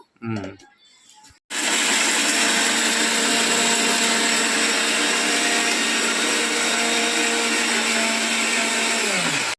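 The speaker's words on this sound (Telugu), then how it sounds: "ఈ మసాలా నేను మిక్సీ పట్టేస్తాను." A kitchen mixer grinder whirs at full speed, grinding a masala of cloves, cardamom, ginger and garlic for chicken curry. A brief quieter sound comes first, then a loud, steady motor roar runs continuously to the end.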